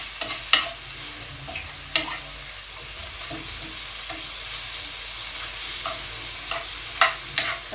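A spice mixture sizzles steadily in oil in a pan, a continuous hiss broken by occasional sharp clicks of a utensil stirring, fairly close and with no voices.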